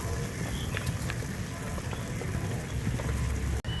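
Palm-fruit pitha sizzling in hot oil, with a steady close crackle and bubbling hiss that runs throughout, unbroken apart from a brief dip near the end.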